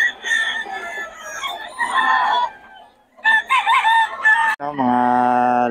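Roosters crow loudly in turn, one long harmonic crow ringing out clearly at the end, while hens cluck and chatter steadily underneath, with a brief lull partway through.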